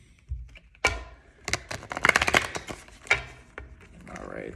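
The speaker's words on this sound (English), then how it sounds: "Shuffling for a while here." Tarot cards being shuffled at close range, a cluster of soft slaps and taps with brief pauses between bursts, fairly quiet and with no talking.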